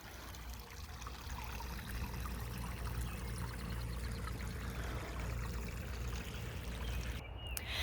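Creek water flowing steadily close by in a forest, a continuous broad rushing and trickling wash that stays even throughout, with a brief soft disturbance near the end and no voices.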